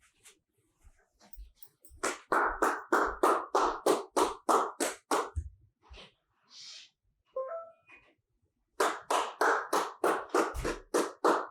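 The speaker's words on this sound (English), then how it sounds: "clapping your hands, and return." A person claps their hands in a steady run of sharp, close claps, pauses briefly, then resumes clapping.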